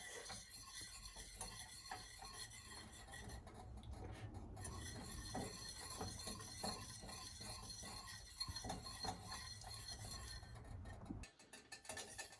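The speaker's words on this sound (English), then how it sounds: "We're stirring it because we don't want to have lump on it. We have to constantly stirring it." A milk bread mixture being stirred constantly in a pot, a faint continuous scraping and light clinking of a utensil against the metal, close but quiet, without speech.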